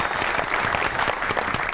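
A studio audience at a Pakistani talk show applauds to welcome a guest, producing dense, close clapping that holds steady for the whole short stretch.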